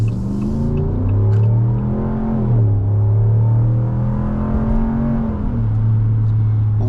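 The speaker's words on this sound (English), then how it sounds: "there you get a little taste of that wonderful HEMI V8 sound with the standard now sports exhaust system" A Ram 1500 Laramie pickup's HEMI V8 with its standard sports exhaust revs up, falls back, then climbs again in a deep, loud, close rumble with no talking.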